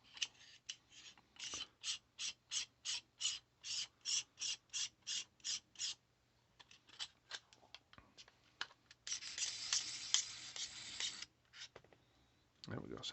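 A Westhunter NVE20 night vision add-on mount being tightened onto a rifle scope, giving a rapid, even series of close ratcheting clicks followed by a longer grinding rub, then a few faint clicks.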